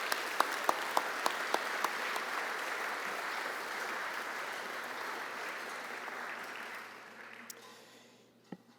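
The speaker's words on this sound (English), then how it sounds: "give yourselves a warm round of applause" A room full of people applauds, starting with a few sharp claps, swelling into steady clapping, then tapering off to scattered final claps.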